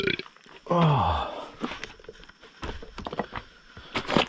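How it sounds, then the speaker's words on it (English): A loud, close burp rumbles out during caving, followed by shuffling, scraping movement and breathing in a confined space. "For some reason, caving makes me burp."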